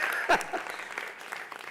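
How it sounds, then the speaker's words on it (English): A room audience gives a short, faint round of clapping, steady scattered claps lasting under two seconds with a voice briefly heard over it. "Can we give a loud round of applause to Ishan, please?"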